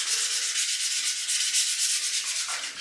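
A 3D-printed rifle part is sanded by hand with 400-grit sandpaper in steady back-and-forth rubbing strokes that produce a continuous close, bright scratchy hiss with no talking.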